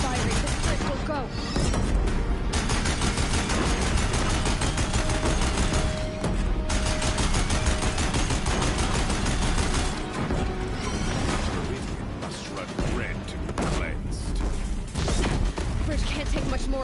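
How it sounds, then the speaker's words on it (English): Deathbringer war machines from Horizon Zero Dawn fire volleys of heavy gunfire at a bridge, a loud continuous barrage of blasts and crashes with short lulls, under spoken dialogue. "If the Deathbringers keep firing, this bridge will go."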